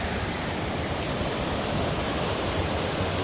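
River flowing beneath a trail bridge crossing on the Swift Creek backpacking trail near Yellowstone: a continuous, close, loud rushing of water with an even roar throughout and no voices.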